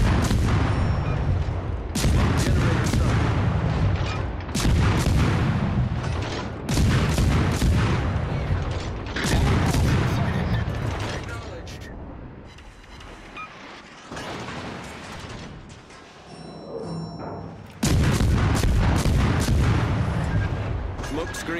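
Artillery fire on a designated target in a video game: a series of heavy booming blasts in close succession, loud and near, separated by brief lulls of rumble, with radio-style voices in the background.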